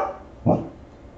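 A single short dog bark sounds at mid distance in a home kitchen, one brief burst standing alone above a quiet room.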